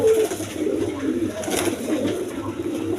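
A pair of red Raj Golla pigeons coo in low, rolling, steady calls, close and fairly loud, with no one talking.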